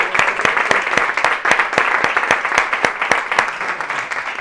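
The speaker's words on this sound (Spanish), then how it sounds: "quiero un aplauso de verdad para esta unidad" An audience claps and applauds steadily for a few seconds, a dense patter of many hands with no one speaking.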